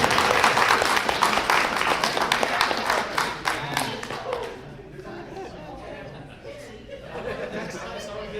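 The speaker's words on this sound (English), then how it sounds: "Let's give the shark a round of applause," A crowd of spectators at a seaside furry convention Jeopardy game breaks into dense, sustained clapping that gradually thins out, with chatter and a few chuckles mixed in and spoken voices over the fading applause.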